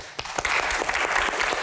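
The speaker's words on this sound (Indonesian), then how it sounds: "Oh bagus, tepuk tangannya cepet banget gitu." Quick burst of audience applause at an Indonesian Q&A stage show, rising suddenly and holding steady as dense, fast clapping with no talk.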